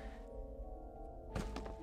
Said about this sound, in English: It sounds like these pressure plates that you're supposed to throw rocks on